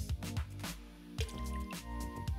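Car wash concentrate poured from a capful into about three gallons of water in a bucket, with a few distinct liquid drips and splashes separated by short pauses.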